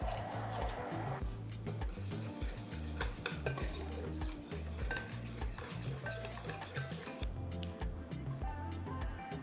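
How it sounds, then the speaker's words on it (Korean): A utensil stirs gelatin into a just-boiled mousse cake mixture inside a pot, with continuous soft clinks and swishes, close and fairly quiet. "자, 그리고 젤라틴 넣어서 섞어주시고요."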